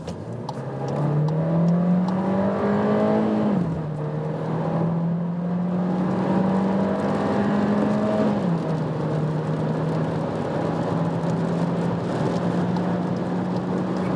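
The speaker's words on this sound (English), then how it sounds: "Let's put to that sports mode, see how this 150 horsepower can bring us on that German motorway from 45 kilometers an hour." A VW Taigo 1.5 TSI with 150 horsepower accelerates hard in sports mode on a German motorway from about 45 km/h, engine note climbing steadily through two upshifts with a rising whir, loud and continuous from inside the car.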